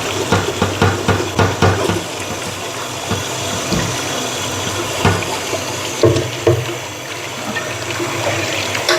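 A tap runs over a pot being rinsed after a sponge wash, a close stream of water with uneven splashing pulses as the pot is moved under the flow.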